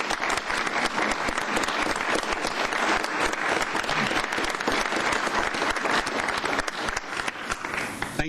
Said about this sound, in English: Let's give these ladies a big round of applause.